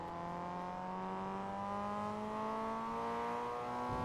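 In Forza Motorsport 2, a car with a modified exhaust accelerates, its engine tone climbing smoothly through the revs as a steady, moderately loud whine, with no talk over it.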